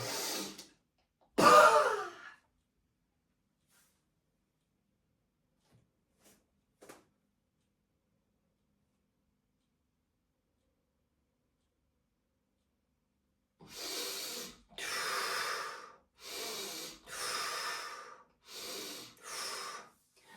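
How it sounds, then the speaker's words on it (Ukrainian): Bodyflex breathing exercise: a forceful exhale and a sharp inhale near the start, then after a long silence a series of loud, rhythmic breaths, close and with no talk over them. "Видих. Різкий вдих."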